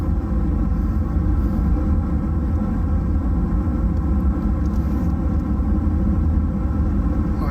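A Toyota Corolla with an A240L automatic transmission drives on a test run, its engine and road noise forming a steady, heavy low rumble from inside the cabin with no distinct shift break.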